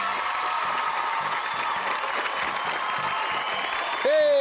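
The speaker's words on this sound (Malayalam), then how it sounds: "മുഴുവൻ കവിത കേൾക്കാതെ ജനം കൈയടിക്കുന്നു" A cartoon crowd applauding at an archery competition, dense continuous clapping at an even level, close and loud, cut off by a brief tonal sound at the end.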